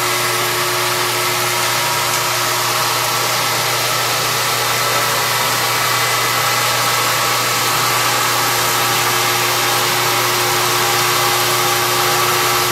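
A CNC saw machine runs along its axis with a loud, steady mechanical whir and hum that continues unchanged throughout, no speech over it.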